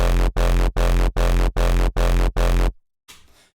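A hardstyle kick with a distorted, shifting tail thumps seven times in a steady rhythm, each hit loud and heavy, followed by a brief pause and a faint fading tail.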